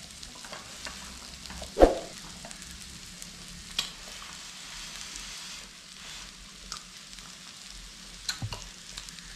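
Beef and pork grilling on a hotpot grill, a steady soft sizzle and crackle with occasional clinks and light stirring sounds, close and fairly quiet, with no talking.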